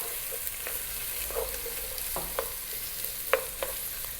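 Carrots sizzle in a hot pan over high heat, a steady soft frying hiss broken by scattered clicks and scrapes as they are stirred.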